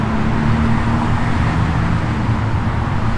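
Steady, loud road traffic noise from a busy street outside an Il Greco restaurant, a continuous low rumble of passing cars and buses filling the whole stretch with no break.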